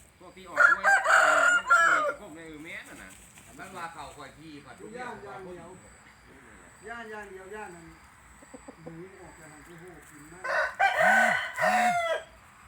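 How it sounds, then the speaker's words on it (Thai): Chickens clucking and calling nearby behind a house, with a rooster-like crow in bursts at the start and end, over softer bird chatter throughout. "ไก่นมสวยๆนะครับ"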